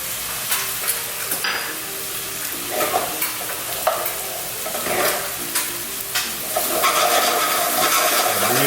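Soy sauce and fish sauce sizzle and reduce in a hot pan with chicken for Thai pad ka prao, with steady frying hiss and repeated scraping stirs, close and loud, no talking.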